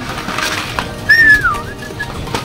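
A pigeon coos once in a clear, close, rising-then-falling call, with faint rustling and background noise around it.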